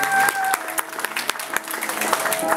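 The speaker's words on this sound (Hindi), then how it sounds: "तालियां" An audience at a live stage performance in India breaks into hearty applause, a dense run of clapping with sharp individual claps standing out and some voices mixed in.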